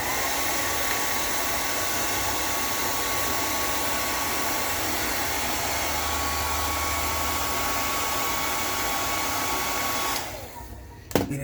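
A blow dryer blows continuously and loudly on beard hair at home, a steady airy roar that cuts off near the end, followed by a few faint handling clicks.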